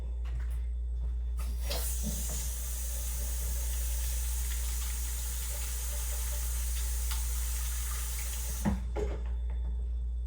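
Hands are washed under a running sink tap, with a steady, close rush of water that starts and stops cleanly and carries a faint clatter at each end.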